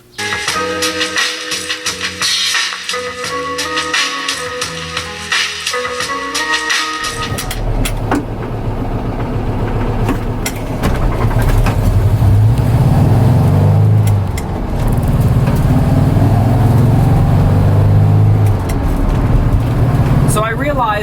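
A vintage VW Bus driving, its engine droning steadily with a low rumble after a short stretch of other sound at the start.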